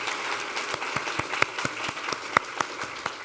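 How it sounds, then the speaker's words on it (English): Audience applause at an epilepsy mortality conference session, a moderate spread of hand claps at medium distance, steady and fairly soft with a few sharper individual claps. "give Gardner a round of applause for all the work that she's been"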